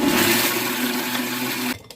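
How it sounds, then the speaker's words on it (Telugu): A mixer grinder grinding ginger chutney whirs steadily and loudly up close for about two seconds before cutting off abruptly. "మళ్ళీ మిక్సీ చేద్దాం, గ్రైండ్ చేసుకోవాలి."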